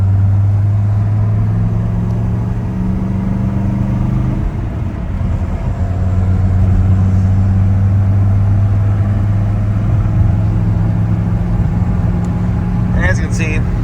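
A Mercedes W123 300TD diesel car drives along at a steady pace, its engine giving a constant loud low hum and rumble from inside the cabin, with a brief dip in pitch partway through.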